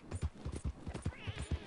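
Horse hooves clip-clop in Red Dead Redemption 2, a steady rhythmic run of about ten close, heavy thuds under a light noisy bed with no talk.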